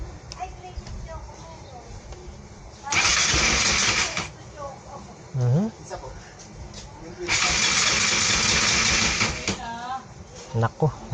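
A motorcycle being started after a home repair: two loud, sustained bursts of cranking and sputtering engine noise, each lasting a second or more, with quieter stretches between them where faint voices can be heard.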